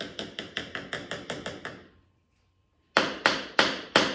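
Rapid, evenly spaced knocks on the hollow wooden hull of a 1969 Glasspar Tacoma 14 boat, a short pause of silence, then another quick series of sharp taps, close and clear.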